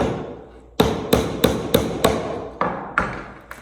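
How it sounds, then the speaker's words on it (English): A hammer pounds a nail into a wooden toolbox piece: seven sharp, close strikes in an uneven rhythm, each ringing briefly, with no talking. "put it in the hole, and then pound it down"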